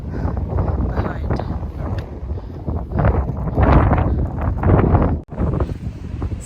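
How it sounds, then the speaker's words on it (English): Strong wind gusts on an Appalachian Trail mountaintop buffet the microphone in loud, uneven roaring bursts that swell and ease, with a voice speaking briefly over it. "It's nice and windy up here."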